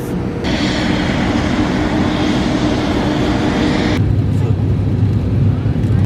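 A loud, steady airplane engine roar drones throughout a flight in the Maldives, with a dense hum and a slight shift in tone partway through.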